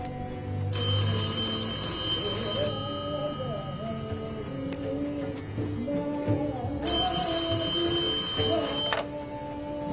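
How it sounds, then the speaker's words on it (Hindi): An old telephone bell rings in two long shrill bursts of about two seconds each, separated by a pause, over a quieter background of voices and soft tones. "अब इस फोन की घंटी तभी बजती है जब तुम्हारा फोन आता"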